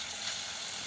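A pan frying while cooking gives a steady, faint sizzle, a brief continuous hiss with no talking.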